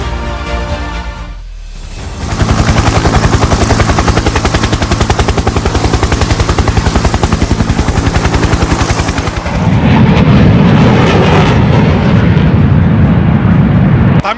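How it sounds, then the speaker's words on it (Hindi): Tejas and Rafale fighter jets over Sulur, Tamil Nadu, during a multinational air exercise: a loud, continuous roar fills the air overhead and swells heavier and deeper near the end. "दुनिया भर से आए फाइटर जेट की हुंकार से तमिलनाडु का आसमान"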